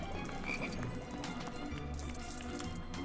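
Frogs croak in the video game Lego Harry Potter, a few low throaty croaks over a busy, clattering game soundscape at moderate level.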